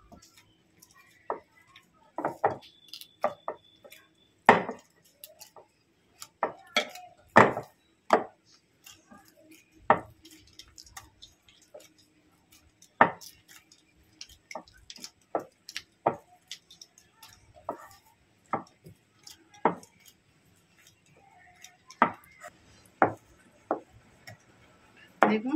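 Soft flour dough for lachha paratha being kneaded by hand, giving irregular faint slaps, squishes and pats with quiet gaps between them, close and without talk.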